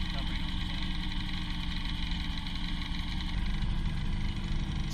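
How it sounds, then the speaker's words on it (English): Old small outboard motor idling on a boat, a steady close rumbling chug with an even, throbbing rhythm that holds throughout, with people talking over it. "This old little motor runs so good."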